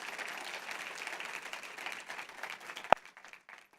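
A church congregation applauds softly in a faint, distant, steady patter of clapping, broken near the end by one sharp, loud smack.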